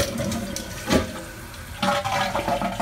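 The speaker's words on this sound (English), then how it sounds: "Flushing fine, no more leaks." A Kohler toilet with a newly replaced gasket flushes nearby, with rushing water that surges, eases, then swells again as the tank refills.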